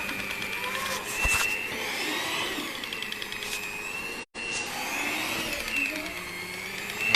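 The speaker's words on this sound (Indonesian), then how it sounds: "Saya pakai mixer yang 100 ribuan merek Miyako." A cheap Miyako electric hand mixer kneads potato donut dough with a continuous whirring motor drone, broken by one brief cutout midway before it runs on steadily.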